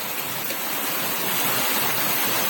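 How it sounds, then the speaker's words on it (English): Heavy outdoor rain falls as a dense, steady, close hiss of broadband noise with no pauses. "It's raining!"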